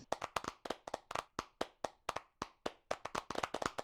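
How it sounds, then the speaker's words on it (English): A small number of hands clap at the close of a virtual-world conference talk on perception and cognition, the claps crisp and separate in an uneven, steady rhythm, fairly close and alone with no talking. "We can applaud."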